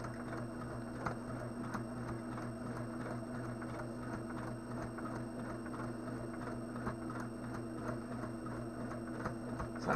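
A home sewing machine stitches a small holiday mini quilt, its steady whirring hum running quietly and continuously throughout, with no voice heard.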